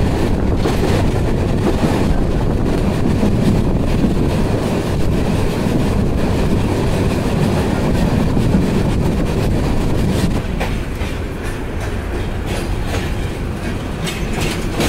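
A passenger train runs between Dhaka Cantonment and Dhaka Airport railway stations, a loud, continuous rumble with clattering wheels and wind rush throughout, no voices.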